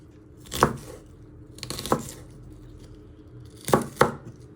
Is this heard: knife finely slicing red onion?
yes